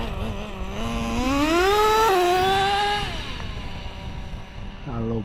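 A nitro engine in an XtM X-Cellerator Street Edition RC car with an RS4 motor, running rich. It revs up in a rising whine, holds, then drops back to a popping idle, close and loud.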